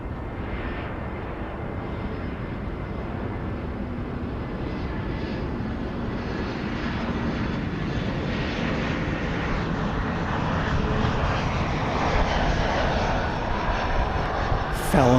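An American Airlines jet landing on runway 18 right at Dallas/Fort Worth Airport gives a steady, loud engine roar that builds slightly louder toward the end, heard alone with no talking.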